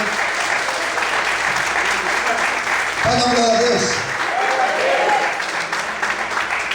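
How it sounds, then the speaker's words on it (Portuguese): Church congregation clapping at a morning worship service, a continuous wash of many hands, while someone speaks over it partway through. "Você pode aplaudir a Ele nessa manhã?"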